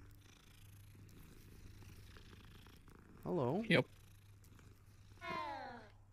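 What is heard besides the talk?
cat purring while being petted in video game Hogwarts Legacy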